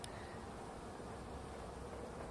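Anatolian honeybees emerging from winter fill the air with a continuous, faint, even buzzing hum that holds steady without breaks.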